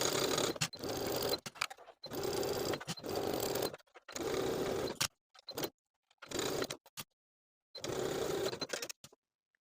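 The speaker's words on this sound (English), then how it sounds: "Sew that sleeve in place from underarm to underarm with a 5/8 inch seam allowance." A home sewing machine sewing sweater sleeves in with a 5/8 inch seam, running in close, steady bursts of stitching about a second or two long, separated by short pauses and small clicks.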